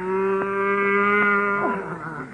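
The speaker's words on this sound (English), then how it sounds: "Henry Williams, what are you doing with that cow?" A cow lows in a long, steady, loud moo with a strong tone that wavers and falls toward the end, heard close and clear with no talking.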